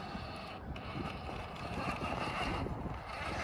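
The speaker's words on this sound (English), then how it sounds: "I hope that wind's not too bad" Wind buffets a microphone outdoors, making a constant low rumbling roar that fills the whole stretch with no clear pauses or voices.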